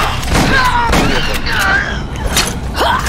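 Video game gunfire crackles in rapid bursts with booming thuds, loud and close, mixed with excited talking over a constant noisy game background.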